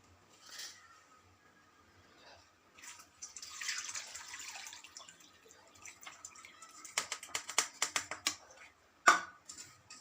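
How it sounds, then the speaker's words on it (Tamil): Ground crab mixture soaked in water for crab rasam is strained to collect the juice, giving soft trickling and dripping liquid sounds followed by a rapid cluster of sharp splashes and clicks, fairly faint and close. "அரைச்சி ஊற வச்சுருந்தோம், அதை இப்போ வடிகட்டி அந்த சாறை மட்டும் தனியாக எடுக்க போகிறோம்"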